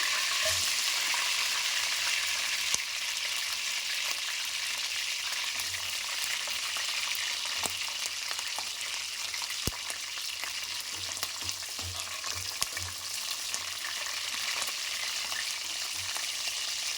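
Mint and chopped green chillies fry in oil with a steady, loud sizzle that runs unbroken throughout. Occasional light clicks and scrapes of stirring sit on top, and no one speaks.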